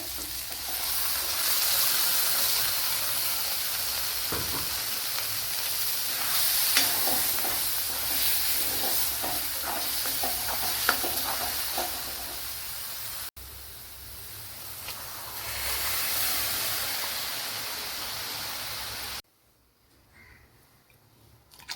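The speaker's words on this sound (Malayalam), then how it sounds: "ഇനി അരച്ച് വെച്ചിരിക്കുന്ന അരപ്പ് ചേർത്ത് കൊടുക്കാം" Ground roasted masala paste goes into a pan for a Kerala quail egg curry and is stirred, giving a loud continuous sizzle with scraping strokes for most of the time before the sound drops away near the end.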